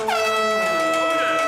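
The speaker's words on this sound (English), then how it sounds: "at least they don't have an air horn." A loud blaring air horn sounds in a pizza restaurant radio ad, a sustained harmonic honk with a sliding pitch at the start, holding steady and alone for about a second and a half.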